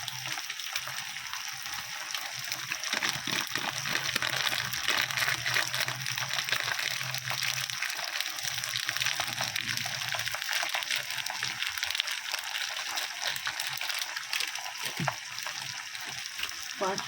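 Water pours into a cooking pot while making an eggplant and leafy-greens curry, a steady rushing, splashing wash that runs close and fairly loud for most of the time, with a faint sizzle beneath.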